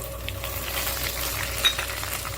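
Dried red chillies, cut up, frying in hot oil in a steady close sizzle with faint stirring scrapes and one small metallic clink, no voices.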